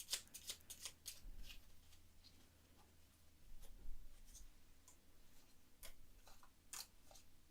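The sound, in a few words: shuffling tarot cards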